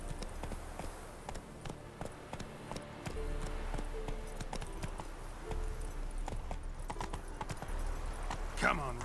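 Roach the horse's hooves clip-clopping at a run in The Witcher 3: Hearts of Stone, a steady rhythmic beat under ongoing game music and someone talking.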